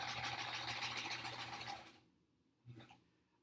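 A sewing machine stitching a sampler quilt border runs with a fast, even click-clack for about two seconds, then stops; a brief knock follows in near silence, with no talk.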